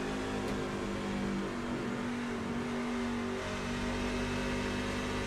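A race truck engine droning steadily from the cockpit in iRacing, at Homestead-Miami, with a sustained tonal hum and broadband roar held at a constant loud level throughout, no voices.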